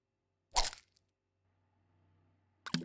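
An egg is cracked into a frying pan in the Cooking Simulator video game: two sharp, close crunching cracks more than two seconds apart, separated by a faint low hum, with no talking.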